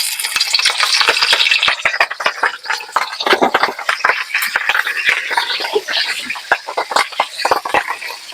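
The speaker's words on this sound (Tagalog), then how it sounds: "So, iprito natin siya ngayon." Chicken feet fry in a pan with crackly sizzling and frequent sharp scrapes and clinks of a utensil stirring, close and fairly loud, with no talking.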